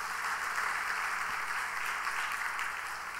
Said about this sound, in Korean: 우리 한번 박수 한번 해드리십시다.